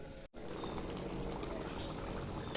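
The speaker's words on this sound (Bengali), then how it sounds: "এবার জল দিয়ে দেবো।" Water poured into a pan of spiced yogurt potato curry, a steady broadband splashing pour after a brief gap, running evenly and fairly close until the end.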